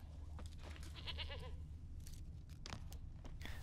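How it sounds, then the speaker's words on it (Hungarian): An old goat in The Witcher 3: Wild Hunt bleats in a wavering, nasal cry over steady outdoor game ambience, with faint crunching around it. "Ó, és itt az öreg kecskéje is."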